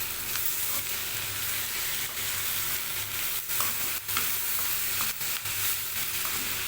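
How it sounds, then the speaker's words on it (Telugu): Salted onions for an onion and bitter gourd fry crackle in a pan, a loud continuous sizzle broken by brief scraping strokes of a stirring spoon. "మనకు ఉప్పు వేస్తే ఏంటంటే ఉల్లిగడ్డ అనేది తొందరగా మగ్గుతుంది ఇలా అయితే కలుపుకోవాలి"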